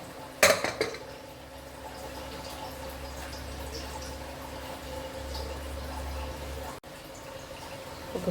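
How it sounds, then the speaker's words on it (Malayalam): A pressure cooker of tomato rice is opened after its whistles: one sharp metallic clank of the lid near the start, then a steady low kitchen hum with faint rattles. "നമുക്ക് കുക്കർ ഒന്ന് ഓപ്പൺ ചെയ്ത് നോക്കാം"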